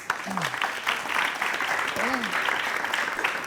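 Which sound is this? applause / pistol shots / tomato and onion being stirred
applause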